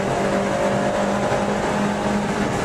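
750MC stock hatch race cars battle closely on a circuit during a 2012 season race, engines droning loudly and steadily with a sustained buzzing whine, no voices.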